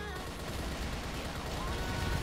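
Rapid, dense gunfire from an HK417 rifle in a zombie shooter video game crackles as a continuous stream of shots at low level, with no talking.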